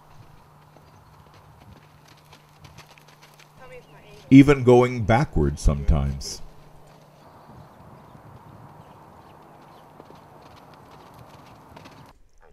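A horse ridden on a farm, its hooves clip-clopping in a loud, quick burst of several clattering steps, with a person talking before and after.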